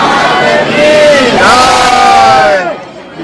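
Dense crowd of pilgrims at Chotila's Chamunda Maa hilltop temple during Navratri, a loud continuous mass of voices with some raised shouts swelling and falling, fading near the end.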